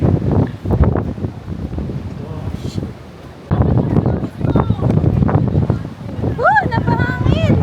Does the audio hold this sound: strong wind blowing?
yes